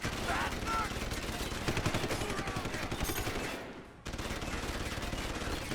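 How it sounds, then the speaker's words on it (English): Dense, continuous rapid gunfire as characters shoot at each other in the Deus Ex: Human Revolution video game, a rattling stream of shots with a brief dip before it resumes. "Yeah, they're shooting each other."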